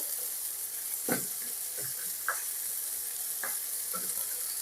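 Chicken stew ingredients fry in a pot over a low flame, a steady soft sizzle running throughout while a spoon scrapes and stirs in a few separate strokes, close and alone.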